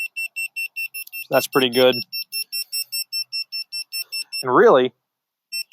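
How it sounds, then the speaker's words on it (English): A laser level receiver at an above-ground pool build site emits a steady series of loud, evenly spaced electronic beeps that continue almost without a break, with a person talking over them partway through. "as long as we are hearing a beep, this whole window that it receives in is about an inch"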